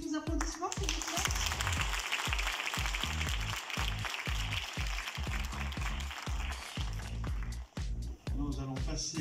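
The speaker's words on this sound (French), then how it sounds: "Là aussi, vos applaudissements, s'il vous plaît." Applause from a seated audience at a youth municipal council induction ceremony in Villenave-d'Ornon, rapid dense clapping sustained throughout with voices and shuffling mixed in, dipping briefly near the end.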